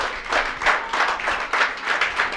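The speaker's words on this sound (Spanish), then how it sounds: "Dele un aplauso a nuestro Dios." Church congregation applauding during a Spanish-language sermon, a fairly close, rhythmic clapping with regular beats in unison, steady and unbroken for the whole short stretch.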